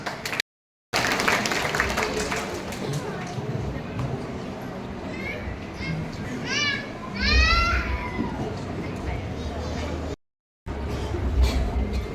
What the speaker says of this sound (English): So let's welcome them with a big round of applause.